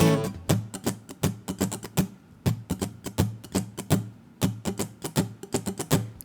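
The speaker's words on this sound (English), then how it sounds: "For the strumming pattern, this is what I'm using." Guitar strumming the pattern for a song, crisp rhythmic strokes in quick repeating groups of two and three with short gaps between, played at full speed and fairly close.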